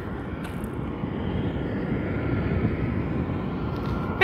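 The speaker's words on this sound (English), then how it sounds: "it's surprisingly really quiet for the plane to be like right there" An airliner's engines at an airport beside the runway give a steady, broad low rumble that holds evenly for several seconds, heard from close by with no talking.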